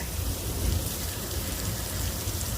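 A backlit artificial rain shower effect at Universal Studios gives a dense, steady hiss of falling water that stays even and close for the whole stretch, with no voices.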